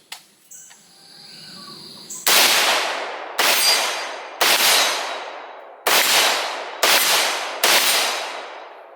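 An AK-pattern rifle, a full-size PSA, cycling its bolt through a magazine function test until it locks back empty: six sharp, loud metallic cracks at irregular spacing, each ringing off, after a brief softer mechanical clatter at the start.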